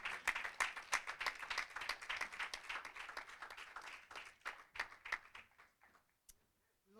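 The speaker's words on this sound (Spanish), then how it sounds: "Vamos a darle un fuerte aplauso a estos 4 exponentes." A church audience applauds at a Holy Tuesday service, a dense patter of many hands clapping steadily, then thinning out and fading to near silence at the end.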